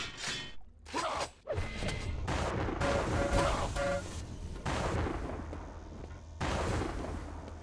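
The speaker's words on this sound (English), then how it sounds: "Complete overkill there with the railgun, but gonna get the job done." Railgun shots and weapon fire in a Quake Live match, loud sharp bursts and whooshes mixed with game effects and short beeping tones over dense background action.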